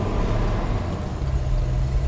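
A 1984 Jeep Scrambler engine drones steadily from inside the cab while driving, a continuous low rumble with road noise and no pauses.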